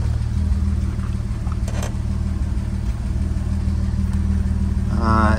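A 1962 Jaguar XKE engine runs steadily after a cold start, a low, rumbling idle heard close up, with a brief higher whine near the end.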